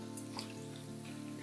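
Cornflakes fry in hot oil for a sweet snack mixture, giving a steady, close sizzle that runs without pause and with no voices.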